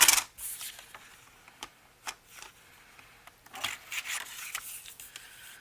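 A sheet of 12x12 paper is cut for a flippy book: a close, fairly quiet run of brisk snips and papery rustles at irregular intervals, with no voices.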